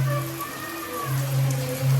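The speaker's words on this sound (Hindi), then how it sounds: "बारिश देखो कितनी तेज हो रही है" Heavy rain pouring down outside a house, a steady dense hiss of falling water with a low hum pulsing underneath, continuous and fairly loud throughout.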